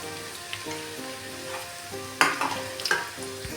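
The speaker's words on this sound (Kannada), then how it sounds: "ತುಪ್ಪದಲ್ಲಿ ಫ್ರೈ ಮಾಡಬೇಕು ಈರುಳ್ಳಿ." Onions fry in ghee, a soft steady sizzle with a few louder stirring scrapes in the second half, all close and without speech.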